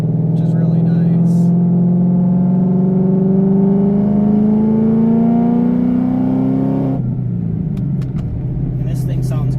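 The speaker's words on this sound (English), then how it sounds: "So the exhaust sounds really good." 2014 Mustang GT V8 with a Flowmaster Outlaw catback exhaust and X-pipe, revving loudly up through a rising deep drone, then dropping off abruptly into a lower burbling idle; voices appear faintly near the end.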